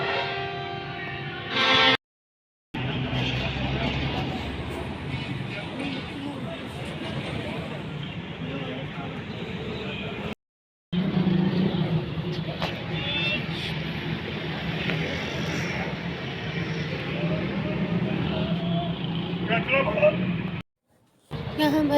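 At a village bus stand, engines idle and pass steadily while nearby people chatter over a continuous traffic hum, broken by a couple of brief silent gaps.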